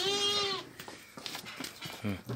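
A young Anglo-Nubian goat kid bleats loudly once, then scuffling and a second shorter bleat follow near the end.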